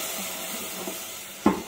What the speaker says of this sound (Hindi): टोमेटो पेस्ट डाल के इसको अच्छी तरह फ्राई करेंगे।